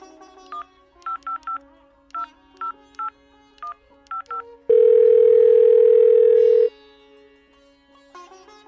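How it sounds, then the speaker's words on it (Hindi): A mobile phone keypad is dialed in quick bursts of two or three beeps, broken by a long steady tone before more beeps follow. The tones are clear, close and alone. "लो पानी कनी मोबाइल लाओ तो फोन करी छी कुटुम के"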